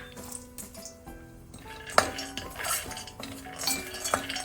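Almonds are dry-roasted in a ghee-coated kadai for dry fruit ladoo, a spoon scraping and clinking against the pan as they rattle and shift, with faint hum in the background.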